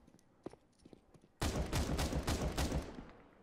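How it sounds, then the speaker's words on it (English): Gunfire in the shooter CS:GO: a few faint clicks and footsteps, then a sudden loud burst of rapid shots lasting about two seconds before fading out. "Justin, shoot orange in the head"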